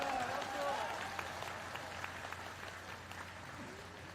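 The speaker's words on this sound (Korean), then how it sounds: "박수!" A crowd applauds a homecoming speech, with scattered clapping that fades into a soft wash during the first second or so, and low murmuring and a faint voice underneath.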